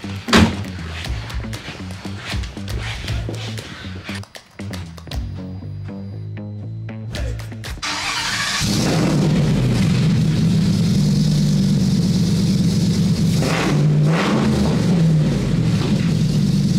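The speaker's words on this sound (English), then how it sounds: "I'm sure y'all want to hear it crank up" A Ford Mustang GT500 Cobra cranks with a rapid choppy starter stutter, then the engine catches and settles into a loud, steady, close rumble with a couple of blips of revving.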